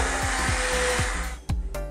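A blender whirs through sweet potato soup in a loud, steady drone with faint regular ticking, then cuts out abruptly and is followed by a few knocks and clatters.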